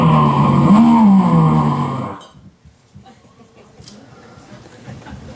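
A voice imitates a brand new Corvette revving its engine at a red light, a loud rising-and-falling growl for about two seconds that cuts off into near silence.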